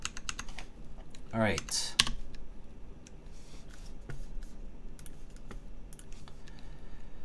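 Typing on a TGR GSK 910 mechanical keyboard with a polycarbonate case and MX Brown switches on an aluminium plate: sparse, crisp key clacks up close, with a brief voice and one louder scraping clatter early on.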